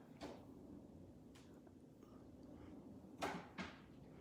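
Kitchen drawers in a house, fitted with double drawers, close gently with a few soft, muffled knocks spread over a few seconds in a quiet room, the last two close together and slightly louder.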